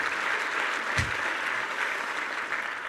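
A tech conference keynote audience at DevFest Toulouse 2019 fills a hall with continuous, even applause, dense and sustained from start to finish.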